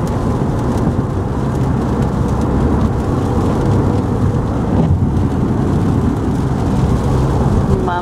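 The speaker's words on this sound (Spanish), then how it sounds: "está lloviendo, no se ve bien en la cámara, pero está lloviendo" Dense, steady rain hisses and patters continuously, loud and close, with a low rumbling undertone throughout.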